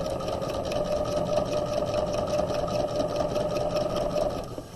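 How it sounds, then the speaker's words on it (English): A sewing machine runs a steady, continuous stitch down the long edge of tote bag handles, close and even in loudness for the whole stretch, with no talk. "we're going to stitch down the long edge of the handles"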